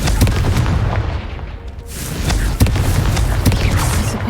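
A fiery blasting spell goes off in a video game, a string of loud booming bursts with sharp cracks near 2.6 and 3.5 seconds, plus a short quieter lull in between.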